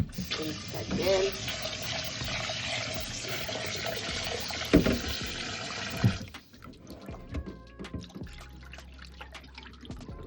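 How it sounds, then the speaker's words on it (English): Cold tap water runs steadily over boiled meat being rinsed in a sink for about six seconds, then cuts off, leaving quieter handling noises and faint clatter. "So rinse it off with the cold water."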